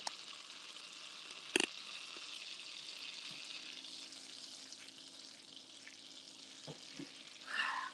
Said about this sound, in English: We're deep frying in butter.